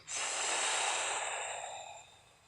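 A single long, breathy exhale during a lower-body mobility exercise, close and soft, fading gradually over about two seconds with no speech.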